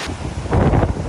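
Strong typhoon wind during Typhoon Enteng's landfall in Casiguran, Aurora, roaring loudly and steadily with a broad rushing gust that swells midway, buffeting the microphone, no voices.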